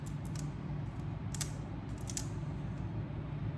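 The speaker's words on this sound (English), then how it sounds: "Shuffle, shuffle, shuffle." Tarot cards are shuffled in a few quick, soft riffling bursts over a steady low hum, close but faint.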